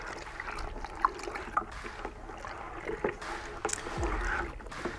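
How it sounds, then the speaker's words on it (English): Sugar is stirred into liquid in a homebrew fermenter, giving soft sloshing and swirling water sounds with a few light knocks against the vessel, close and fairly quiet. "And now let's get that dissolving by giving it a stir."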